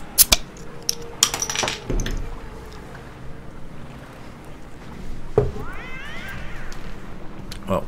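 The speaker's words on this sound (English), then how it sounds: "cat just went nuts back there" A cat going wild in a room, yowling and meowing with rising wavering cries after bursts of thumps and clatter, mid-distance over faint background game sound.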